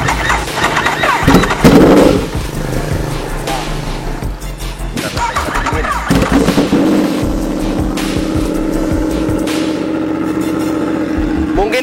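A Yamaha superbike, an R1M or MT-10 SP, is started up close and revved hard in several loud bursts, each followed by a rough, throbbing idle. People talk quietly underneath.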